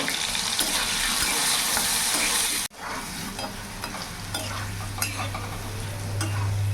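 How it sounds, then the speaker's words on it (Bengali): Diced potatoes seasoned with salt and turmeric fry in hot oil, a loud continuous sizzle broken by stirring scrapes, with a low steady hum underneath. "আলুটা লাল লাল করে ভাজা হয়ে গেছে"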